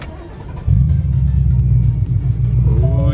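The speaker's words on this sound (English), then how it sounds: "So let's start her up." A 650 WHP Ford Mustang engine turns over and catches after a short pause, then settles into a loud, deep, steady idle rumble right up close.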